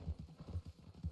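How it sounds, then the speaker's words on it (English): Horses' hooves clip-clop at a steady walking rhythm in the Red Dead Redemption western game, with about a dozen soft, low thuds over a quiet background. "Horses."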